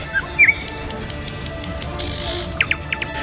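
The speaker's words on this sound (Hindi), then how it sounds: "यहाँ पक्षियों की चहचहाहट में राम है।" Birds twitter in a forest, with a couple of sharp calls near the start and a quick run of rising chirps near the end over steady ambient hiss and faint clicking.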